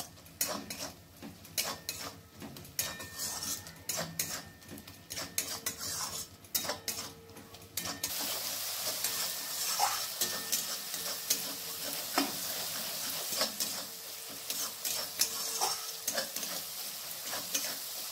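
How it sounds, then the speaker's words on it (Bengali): Spices with Kashmiri red chili powder and turmeric stirred and fried in a pan for a katla fish curry, with a spoon scraping and clinking under a steady soft sizzle that grows fuller partway through. "এরপর মশলাগুলোকে ভালো করে কষিয়ে নিতে হবে"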